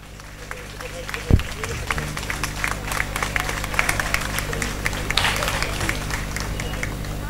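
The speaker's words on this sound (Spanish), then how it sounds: "Escuchar y todos sus aplausos" Audience applause at a Canary Islands Day celebration in Agüimes, steady dense clapping from a crowd throughout, with one sharp thump near the start and a constant low hum underneath.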